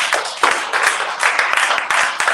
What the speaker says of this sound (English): A round of applause for Acabado.